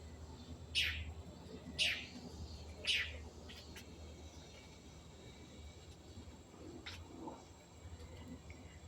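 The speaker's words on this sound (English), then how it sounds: "lots of birds out here today." Several birds chirp outdoors in a few sharp, repeated calls, three prominent near the start and fainter ones later, over a steady low background hum with no talking.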